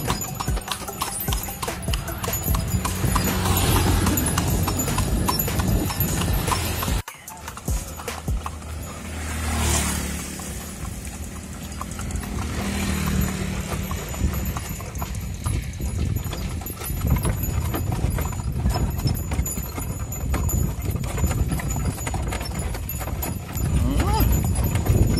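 Horse hooves clip-clop steadily as a horse-drawn dokar cart rolls past rice fields, the rhythmic clatter running under near-constant talk and road noise.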